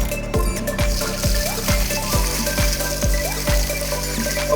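Water runs into a porcelain toilet under factory testing, a continuous loud rushing flow punctuated by a series of repeated low thuds or knocks at roughly half-second intervals.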